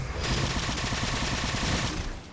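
Human and Covenant turrets fire in Halo 4, a fast, evenly spaced stream of heavy automatic shots that runs steadily for a couple of seconds before fading.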